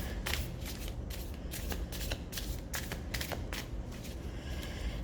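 A deck of playing cards is shuffled repeatedly up close, giving rapid riffling bursts in a steady rhythm with no voices.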